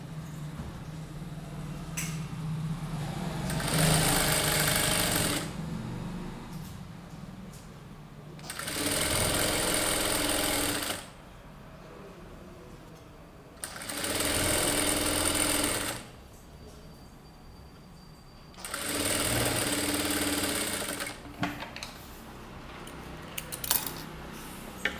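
A sewing machine stitches piping along a neckline edge, running in four steady buzzing bursts of several seconds each with pauses between, close and clear over faint room noise.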